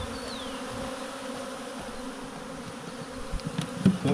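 A large swarm of honey bees gives a steady, dense buzzing drone that stays fairly even throughout, with a few louder nearby buzzes and faint handling noises near the end.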